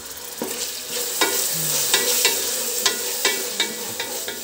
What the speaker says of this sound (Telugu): బాగా మెత్తగా టమాటా మెత్తబడేంత వరకు వేయించుకోవాలి.